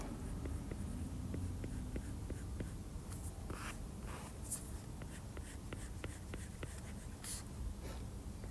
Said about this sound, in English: So this one I'm drawing on his hoof.